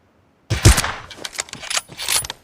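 In the PUBG video game, an AWM sniper rifle fires one sharp, loud shot close by, followed by a tail of clattering and echoing bursts that fade out.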